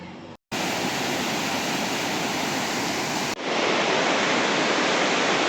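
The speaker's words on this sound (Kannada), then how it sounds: "ಆಲ್ವಿ ಡ್ಯಾಮು ಒಂದು ಕಾನಿ ಓಪನ್ ಮಾಡವ್ರ ಅದ್ರ ಪ್ರಯುಕ್ತ ನೀರು ಫುಲ್ ಹರಿಯಕೈತಿ" Water released through a dam gate raised half a foot surges down a village stream, a loud, steady broadband roar, close and continuous, with a brief dropout near the start.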